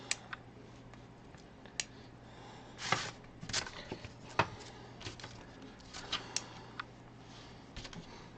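Small magnets snap and click against a miniature Imperial Knight model as parts are pulled apart and refitted, sharp isolated clicks and light handling rattles scattered irregularly over a faint steady hum.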